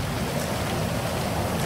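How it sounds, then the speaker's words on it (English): Heavy rain from the Insane Rain mod in GTA V, a dense steady hiss of downpour with low rumbling underneath, continuous and fairly loud with no talk. "We're going to first start with rain, okay? Let's see what rain looks like."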